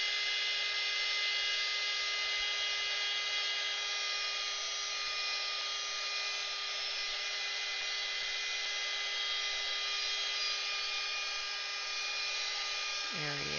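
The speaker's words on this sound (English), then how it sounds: "now we're going to take our heat gun and we're going to dry that" A heat gun blows steadily and loudly over watercolor paint, a constant whirring hiss with a faint hum, cutting off abruptly near the end.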